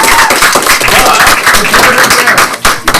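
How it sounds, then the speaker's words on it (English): Loud audience applause at a Miami tech event held by FIU in Washington, DC: a close, dense burst of many hands clapping, with crowd cheering mixed in and a brief dip near the end. "Round of applause"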